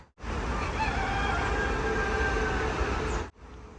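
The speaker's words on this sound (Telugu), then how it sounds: "తెల్లవారితోనే కోడి కూతంటే ఎంతమందికి ఇష్టమో కామెంట్ చేయండి" A rooster crows at dawn on a rainy farm, one long sustained loud call lasting about three seconds, close and dominating, ending abruptly into quiet.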